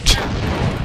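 A loud gunshot blast from the Doom TNT: Evilution video game running the Brutal mod opens with a sharp crack and then decays into a dense rumbling roar.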